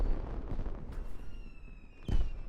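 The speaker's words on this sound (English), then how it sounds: "Loud fireworks." Fireworks in the video game Arknights: two fairly quiet, sharp bangs a second apart, with a thin whistling streak drawn out between them.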